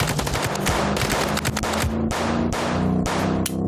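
Dense automatic gunfire from the video game Chicken Police rattles in rapid, overlapping loud bursts that continue almost without pause.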